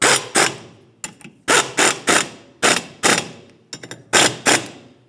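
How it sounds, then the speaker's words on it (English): Bolts driven into a 2012-2020 Ford Focus rear brake drum to press against the hub and pull the drum off, giving loud, repeated ratcheting bursts in short groups with brief pauses, close and alone. "what I'm going to do with these is drive the bolts in, press up against the hub surface, and that will actually pull the drum off"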